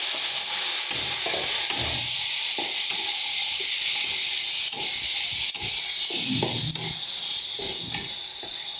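Pieces of taro sizzle steadily in a hot frying pan, with scraping and rubbing from stirring over a continuous hiss, close and fairly loud.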